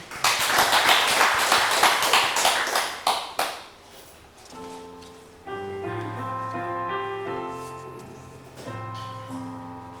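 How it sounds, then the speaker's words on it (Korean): Church congregation clapping, a loud burst of many hands for about three seconds that quickly fades, followed by sustained piano or organ chords playing alone. "우리 영광의 박수."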